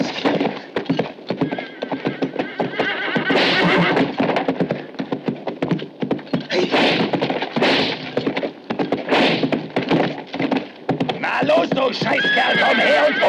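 A horse neighs loudly several times amid clip-clopping hooves and scuffling, with people's voices mixed in nearby.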